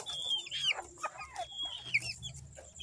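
A Texas gamefowl rooster clucks and chirps in short, irregular bursts close by, with soft farmyard background noise underneath.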